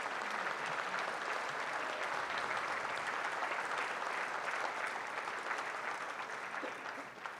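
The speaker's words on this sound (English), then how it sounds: "Let's give her one hell of a round of applause." An audience at a university centennial closing ceremony gives a sustained round of applause, an even, dense patter of many hands that sounds somewhat distant and stays steady throughout.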